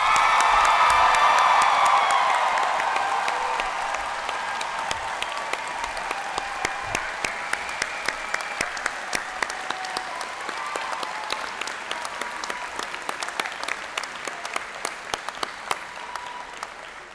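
A large convocation audience applauds graduates, beginning with loud cheering and whoops that fade into sustained dense clapping with scattered sharper claps, gradually quieting over seventeen seconds.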